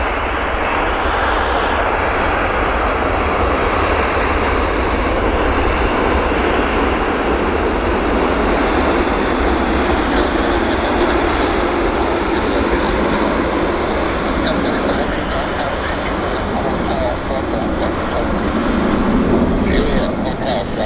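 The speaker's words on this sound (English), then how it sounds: "Quite a nice landing for us, I have to say." An airliner lands and rolls out at Vancouver Airport with a loud, sustained roar of engines and rushing air that stays fairly constant throughout, while someone comments over it.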